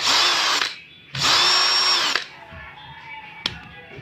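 A cordless power drill runs after a defective battery is repaired, with two loud whirring bursts separated by a short pause, then a quieter spin-down and a brief click.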